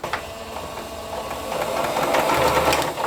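Sewing machine running steadily as it stitches one side of a diagonal pencil case, a continuous mechanical whir that grows slightly louder and busier toward the end, with no talking.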